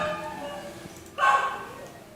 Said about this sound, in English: Hence why you are hearing a stupid dog.